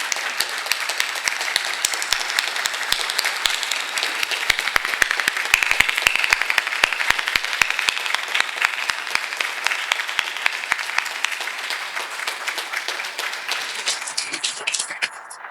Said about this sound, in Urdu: ایک بار سب کو کھڑے ہو کے ان کے لیے کلیپنگ کرنی چاہیے.